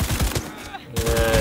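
Gunfire in the video game Cyberpunk 2077: a rapid burst of sharp shots, a short quiet gap, then another volley, all loud and close.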